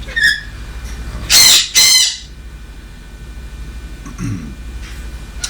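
Pet bird Bozmo lets out two loud, harsh squawks close by, with fainter chirps before them and a short low call afterward.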